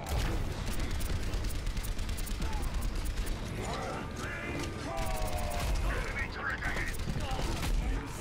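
An enemy turret fires in Overwatch, rapid mechanical rattling gunfire chattering steadily through a busy game mix while players talk over it.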